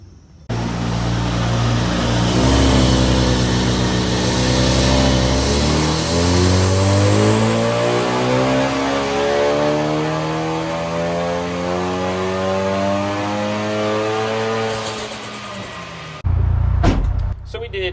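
A tuned car's engine revs hard and loud on the street during a pull, with rising and falling harmonic sweeps across most of the stretch before it cuts off near the end.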